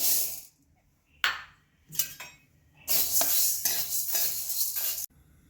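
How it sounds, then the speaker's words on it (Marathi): Moth and moong beans dry roast in a pan, loose dry rattling and scraping stirs in uneven bursts, quiet gaps between, then a longer busy stretch of stirring up close. "आता आपण यामध्ये मठ आणि मूग घालून घेणार आहोत आणि हे देखील आपण छान भाजून घेणार आहोत"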